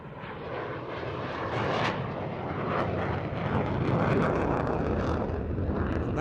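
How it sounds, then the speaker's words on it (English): Historic Saab Viggen jet making a slow, steep, wing-rocking pass with undercarriage down at an airshow, its engine a broad, fairly distant rumbling roar that builds gradually, with some wind buffeting. "the historic flight Viggen comes in with undercarriage down for a very steep"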